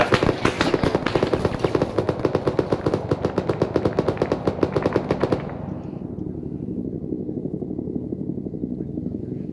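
Sustained rapid machine gun fire in a military video game, a loud, fast, even rattle that runs for about five seconds and then cuts off, leaving a low rumble.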